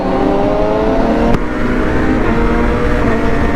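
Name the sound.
sport motorcycle accelerating during a street race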